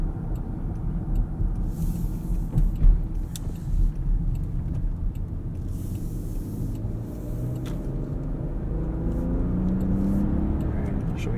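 Engine and road noise inside a 2022 Range Rover LWB while driving: a low, steady cabin hum with faint rattles, quiet and continuous throughout.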